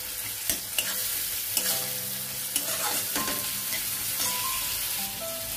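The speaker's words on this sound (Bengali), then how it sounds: "দিয়ে আবার ভালো করে নাড়াচাড়া করব" Onions with garlic and ginger paste being stirred in a pan over low to medium heat: a continuous sizzle broken by several sharp spoon clicks and scrapes against the pan.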